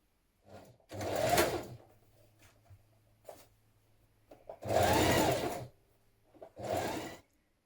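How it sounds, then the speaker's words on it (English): A sewing machine stitches the upper back to the upper front along the side seams of a gathered top, sounding in three loud bursts of rapid whirring separated by quieter pauses with faint handling clicks. "we're going to stitch that in place now."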